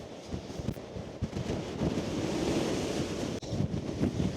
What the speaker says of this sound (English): The wind's wild.